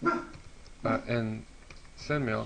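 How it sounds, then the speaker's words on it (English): A dog barks and yips in the background of a room while someone talks over a computer setup, short sharp barks breaking through between and under his speech. "That's my dog in the background."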